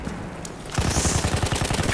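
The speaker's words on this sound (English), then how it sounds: "I'm getting shot at by something" Rapid automatic gunfire in the video game Battlefield 1, a quiet lead-in and then a dense, loud, close burst of evenly spaced shots that continues to the end.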